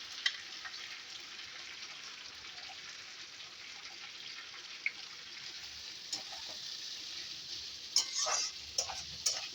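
Chopped onions fry in oil in a pan while making prawn pulao, giving a steady, quiet sizzle with scattered crackles and a few sharper pops near the end.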